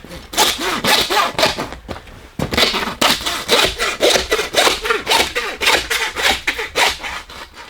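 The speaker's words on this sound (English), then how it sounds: "So I'm going to cut the ribs out along the spine on both" A saw or knife rasps back and forth through bear ribs along the spine during home butchering, a steady close series of rhythmic strokes with a brief pause midway.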